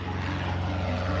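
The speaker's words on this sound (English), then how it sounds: "Airplane." A propeller airplane drones steadily in flight, a continuous mid-loud engine hum with no break or change over the brief moment.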